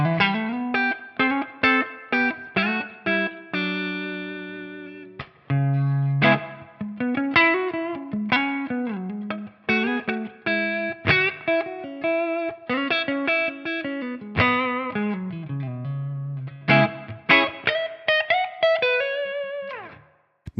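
Electric guitar on the neck pickup played through a Tonex amp model at the first gain level, a warm, lightly driven melodic line of single notes and bends with chorus-like shimmer, alone and steady for about twenty seconds.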